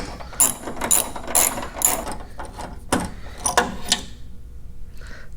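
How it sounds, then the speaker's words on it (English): A ratchet wrench with an extension clicks in quick bursts of rapid pawl ticks, close and loud, as bolts are loosened on a Hummer H3. "let's go ahead and put our extension on and get these last bolts out"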